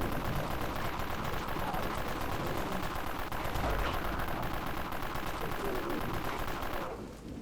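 Rapid sustained bursts of submachine-gun fire from the Marauder SMG in the game Dead Frontier, a dense continuous rattle that runs loud for about seven seconds before cutting off.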